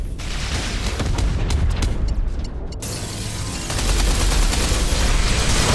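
Torpedo hits and explosions pounding a base in the space shooter Everspace 2, a dense barrage of crackling, booming impacts that swells louder toward the end, close and continuous.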